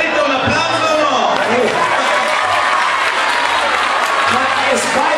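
Crowd applause at an outdoor palio, a steady wash of clapping spread over the whole stretch, mixed with voices and crowd noise and occasional low thumps underneath.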